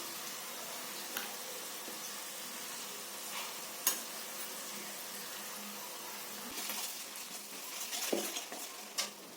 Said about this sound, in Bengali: পেঁয়াজটা ভাজা হয়ে গেল, এবারে আদা রসুনটা দিয়ে দিই।